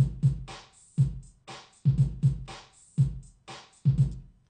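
A programmed drum beat in Pro Tools loops with punchy kick and snare hits and open hi-hats ringing on the offbeats, a steady rhythmic pattern played back cleanly with no voices.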